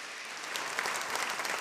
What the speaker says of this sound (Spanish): Un aplauso para estos jóvenes también.